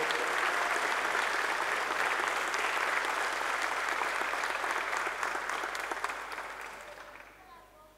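Applause at a local police award ceremony in Mogán as an officer receives a plaque, a full crowd clapping steadily, then gradually tapering off and fading toward the end.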